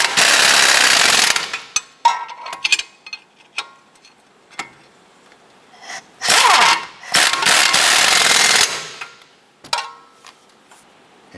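Front strut bolts on a 2007-2012 Nissan Versa are snugged down with a power tool: long, loud buzzing bursts alternate with short rattling stretches and scattered sharp ticks and clicks, all up close with no talking.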